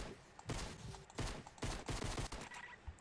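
Rapid bursts of gunfire in Fortnite, several clustered volleys of sharp shots spread through the moment, moderately loud with brief pauses between strings of fire.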